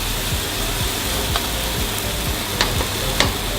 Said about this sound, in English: start cooking the paste